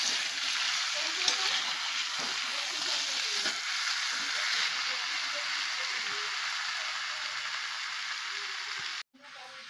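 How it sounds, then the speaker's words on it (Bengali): Large pieces of meat, scored so they cook through, sauté in a pot for biryani with a steady close sizzle and occasional stirring, ending in a brief drop near the end; no speech. "মোটামুটি সেদ্ধ না হওয়া পর্যন্ত একটু কষবো।"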